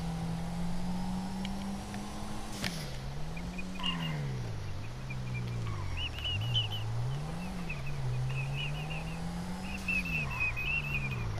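A person whistles a wavering, gliding tune close by in GTA roleplay over steady background noise, with a few faint chirps in the distance.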